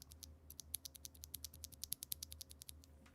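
Keys on a Redragon mechanical keyboard with tactile switches being pressed in a quick, uneven run of crisp clacks, close and fairly quiet, with no talking.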